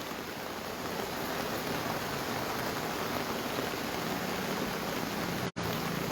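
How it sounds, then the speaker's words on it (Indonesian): Heavy rain pours over Enrekang regency, a dense, steady hiss of downpour filling the scene evenly without letup, with one brief dropout near the end and no voices. "Jadi di Kabupaten Ngendekang saat ini juga sedang berlangsung hujan."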